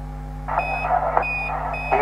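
A lunar module alarm in the Orbiter Apollo simulator sounds during the moon landing braking phase, a pulsing electronic tone repeating in quick on-off beeps over a steady low radio hum, loud and close.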